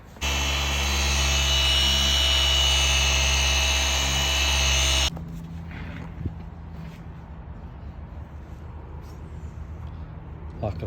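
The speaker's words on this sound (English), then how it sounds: "Soft foam pad that will go on, and that will be the finished polishing." A car polisher fitted with a soft foam pad whines loudly and steadily on car paint for about five seconds, then cuts off, leaving quieter handling noises and some talk.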